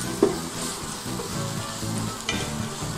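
Rice with turmeric powder and a bay leaf stirred in a pan, giving a steady sizzle with soft scraping stir strokes throughout, a couple of sharper clinks of the spatula near the start and end.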